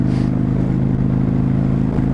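A Honda Shadow 600 motorcycle with what seems an open exhaust gives a loud, steady low engine rumble at close range, riding in the rain with a faint clatter over it and no talk.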